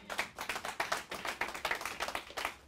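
Congregation at a spiritual revival service clapping in a steady rhythmic beat to acclaim the Lord, a quick even series of moderately loud claps, no voices.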